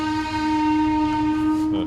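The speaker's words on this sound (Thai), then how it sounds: "เสียงรถไฟ" A train horn sounds a loud, sustained steady tone close by, cutting off abruptly at the end.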